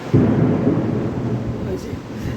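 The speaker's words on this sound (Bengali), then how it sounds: "খুব জোরে জোরে বাজ পড়ছে" Loud thunder in a storm, a deep continuous rumble that swells near the start and slowly fades, with faint rain underneath.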